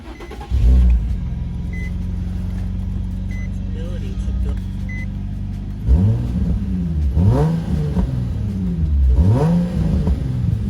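A 2005 Nissan 350Z convertible starts from the driver's seat with a sharp catch, then settles into a steady idle before three strong revs rise and fall, each ending in back-pressure burbles, loud and close.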